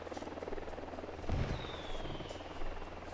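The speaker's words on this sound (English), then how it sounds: "they've got a helicopter" Helicopter in the video game Ghost Recon Wildlands, a faint steady rotor buzz and whine droning in the background throughout, with a brief louder thump partway through.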